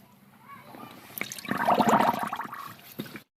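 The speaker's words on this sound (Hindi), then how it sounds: "मैंने मशीन के अंदर पहले से ही पानी डाल रखा है और अब जो हमने जो ये पोटली बनाई है ये पोटली हमें इसके अंदर डाल देनी है।" A cloth bundle is dropped into water already standing in a washing machine, giving a splashing, sloshing surge that swells for about a second and a half, then settles into gurgling before cutting off.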